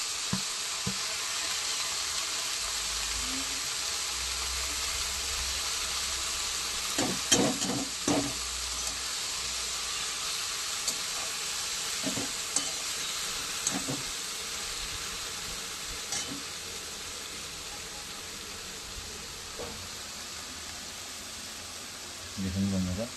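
Kalmi shak, a water spinach, sizzles and fries in a pan with a steady hiss, while a spatula scrapes and stirs it in scattered knocks and clatters.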